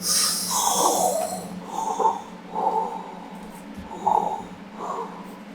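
A voice imitates Darth Vader's breathing with a run of loud, close, rhythmic rasping breaths, each a short hoarse whoosh repeated in a steady pattern.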